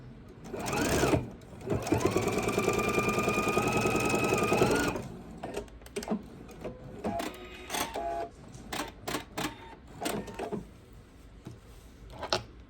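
A sewing machine chain pieces fabric, running in a steady high whir for a few seconds, then stopping and giving short stitching bursts and clicks as pieces are fed through, close and clear with no talking.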